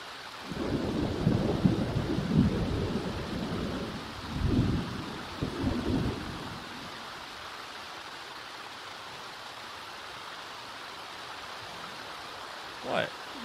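Steady rain hisses throughout in The Sims 4 Seasons, with deep rolling thunder rumbling for several seconds early on and a sharp crack near the end, loud over a constant wash of falling water.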